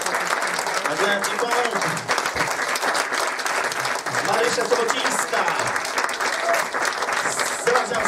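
Sustained audience applause for actors at a special educational film screening, dense continuous clapping that fills the room, while a presenter's voice announces names over it.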